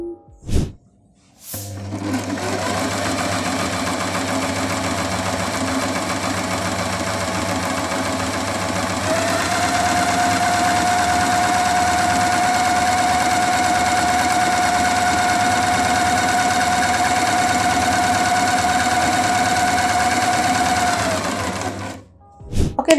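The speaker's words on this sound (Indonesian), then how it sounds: "Nah, ini dia beberapa hal mengenai Singer Simple 3232. Kita akan dengerin gimana suaranya setelah ini." A Singer Simple 3232 portable sewing machine runs with a steady mechanical whir after a click, picks up speed about midway and keeps a constant buzzing hum until it stops near the end.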